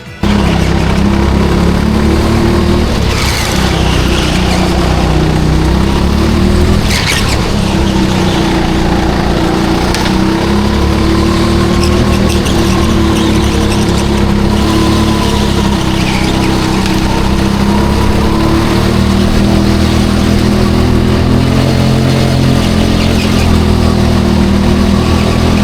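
Go-kart engine at full effort on a hot lap around Teamsport Harlow indoor track, a loud, continuous buzzing drone that rises and falls in pitch as the kart accelerates and brakes through corners.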